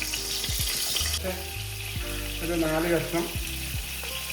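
Tomato pieces sizzle in hot olive oil as they are laid into the pan one by one, with a steady close frying hiss, soft clinks and a few words spoken.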